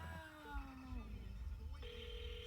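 A faint telephone ring tone sounds, a steady electronic tone that starts partway through over low background hum.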